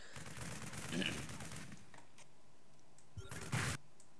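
Marines firing at armored Ultralisks in a StarCraft II match, a dense rattling stream of rapid gunfire that flares in short louder bursts, running under steady commentary.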